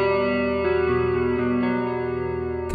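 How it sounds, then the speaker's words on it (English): An electric guitar through the CE1 chorus effect on a NUX Mighty Plug Pro: a sustained chord with a gentle wavering shimmer, then a second strum near the end, with no talking. "Let's try the CE1 chorus."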